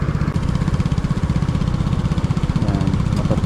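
A rough, noisy motorcycle engine runs steadily and close by, its loud low pulsing throb continuing without a break and no speech over it.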